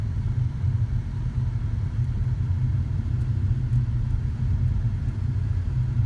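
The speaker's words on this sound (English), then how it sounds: "You can kind of get a feel of the road noise." Steady low droning road noise fills the cabin of a 2015 Nissan Altima S while driving, a constant rumble and hiss with no talking.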